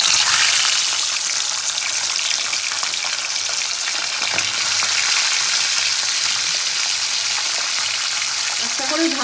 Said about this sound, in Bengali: তেলটা আমার গরম হয়ে গেছে, এবার মাছগুলোকে ভেজে দেবো। একটা করে মাছ ছাড়বো এবার তেলের মধ্যে।